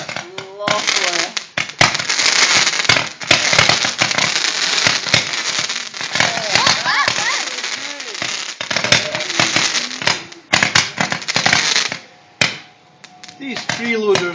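Fireworks burst and crackle at night in a dense barrage of loud, sharp pops and booms, with people exclaiming and chatting throughout.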